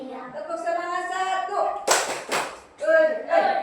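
Children perform the tepuk semangat clapping chant in a classroom lesson: voices chant rhythmically and a few sharp, close hand claps land in quick succession between phrases.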